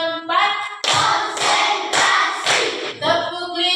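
Primary-school pupils in a religion lesson clap in short rhythmic rounds on their teacher's cue, several loud bursts of hand claps separated by the children's voices chanting together between rounds.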